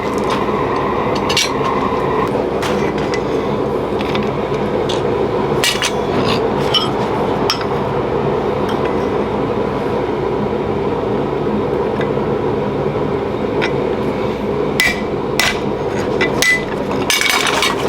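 Hammer blows on a metal punch during spatula making at a workbench, a long run of sharp metallic strikes at uneven intervals over steady shop noise, with a few louder ringing hits standing out.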